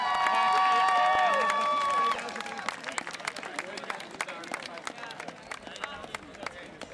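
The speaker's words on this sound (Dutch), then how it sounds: "Dames en heren, geef een applaus aan Marjolein Kruijder" Sustained applause and cheering rise from an equestrian event crowd for a rider, following a loud held tone at the start; the clapping runs dense and continuous, with some voices mixed in.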